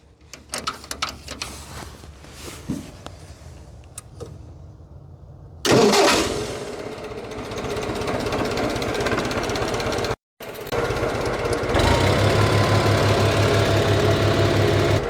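An Allis Chalmers D12 Series 3 tractor engine cranks with several uneven bursts, then catches and settles into a loud, steady idle with a broadband rumble, briefly cut off before running on.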